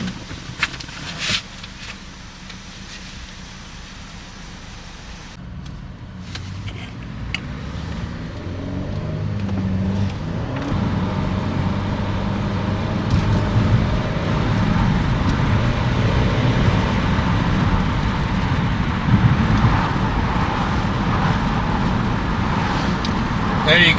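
A Buick Regal with a high-pressure fuel pump fault on an extended test drive, its engine and road noise building steadily from quiet to a loud continuous drone, with speech over it.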